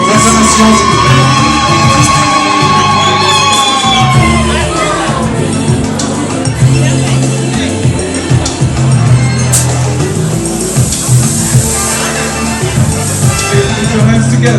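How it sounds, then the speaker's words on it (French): Wedding guests of couple Kiala and Sofia cheer and shout loudly in a crowd over loud music, with whoops and shouted voices rising through the noisy, sustained celebration. "votre acclamation, s'il vous plaît"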